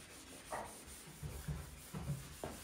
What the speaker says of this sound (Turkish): Annem de kapı silmeye devam ediyor.